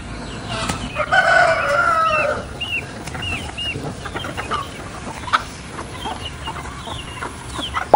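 Native chickens at a farm feeding time, a rooster crowing loudly near the start followed by scattered clucks and short calls close by, with light background rustle.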